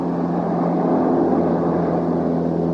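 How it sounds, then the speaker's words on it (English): A Super Scooper seaplane skimming over water at 90 to 100 miles an hour, ramming water into its tank through a scoop probe: a steady, loud, continuous roar of engine and rushing water with no break. "the water is basically rammed into the tank through the probe"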